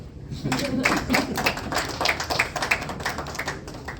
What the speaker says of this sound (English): the others can clap for him.